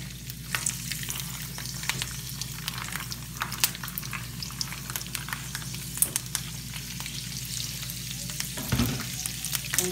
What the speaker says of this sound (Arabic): خديت مقله درت فيها الزيت، غادي نحط فيها شويه بشويه الزيت سخون.